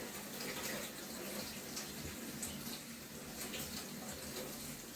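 Water running steadily over sprouts in a countertop container with a catch basin below, a continuous soft splashing and trickling, fairly quiet and close, with no voices.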